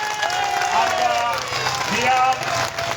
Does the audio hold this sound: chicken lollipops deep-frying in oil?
no